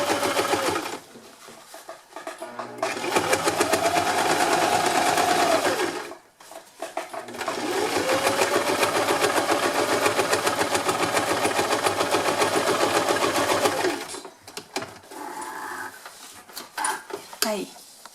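A sewing machine stitches the lining of an insulated lunch bag in two long, steady runs split by a brief pause, then a few shorter, quieter bursts with soft handling noises at the end.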